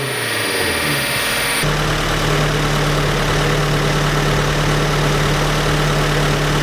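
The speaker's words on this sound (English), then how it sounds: "Let's get on to another pull with a 100 shot of nitrous on this stock Miata motor." Stock Mazda Miata engine on a 100 shot of nitrous, loud and steady throughout, with a sharp shift early on into a sustained droning tone that holds for several seconds.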